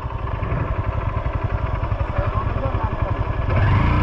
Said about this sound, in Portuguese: Tem uma moto ali em cima.